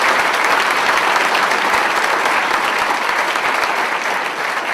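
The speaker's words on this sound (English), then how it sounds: "So let's give our front porch team a round of applause" A large audience at a school district education outlook presentation bursts into loud, sustained applause, thick and continuous clapping that stays strong before easing slightly near the end.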